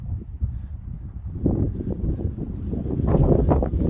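Strong wind blows outdoors near a small 1000 W wind turbine, a continuous low rumbling buffet against the microphone that swells louder toward the end, with no voices.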